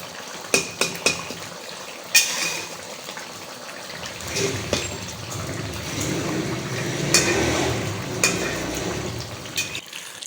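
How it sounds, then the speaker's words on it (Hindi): Chicken karahi sizzling in a karahi pan, with scattered metal clanks and scrapes from a stirring utensil over a rising, steady fry, close and moderately loud, no voices. "तो देखें ये मेरी कढ़ाई भुन रही है जनाब।"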